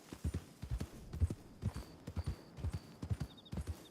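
Horse hooves clip-clop steadily in Red Dead Redemption 2, a close, rhythmic run of paired thuds carrying on through the whole stretch with faint game ambience behind.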